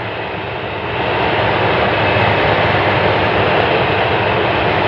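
A light sport aircraft flies with a loud, continuous engine drone that grows stronger after the first second and then holds steady and unbroken.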